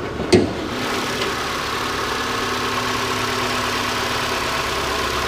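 A used Ford Escape's 2.5-liter engine idles while still cold, giving a steady, fairly loud mechanical hum that carries on evenly throughout after a brief click near the start, with no one talking.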